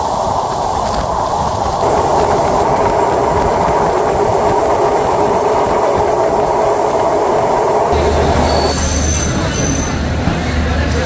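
The Jahanabad Express on its inaugural Khulna to Dhaka run travels at about 94 km/h, giving a loud, continuous rumble with sustained metallic wheel squeal and a shift to a lower, heavier roar late on.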